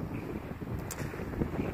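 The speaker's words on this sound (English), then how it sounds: "It's super windy." Strong wind buffets the microphone outdoors among tall sagebrush, a dense, continuous low roar and rumble filling the short stretch with no voices.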